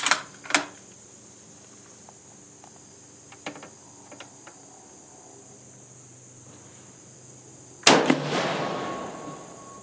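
A Dutch 1895 Mannlicher carbine rechambered to 6.5x57R fires outdoors: two sharp reports in quick succession open, then a quiet stretch with faint ticks and insects, then a louder shot whose echo rolls away.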